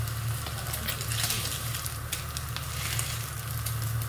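Pork belly sizzling steadily in a frying pan, a dense, continuous crackle and hiss of hot oil at close range with no voices over it.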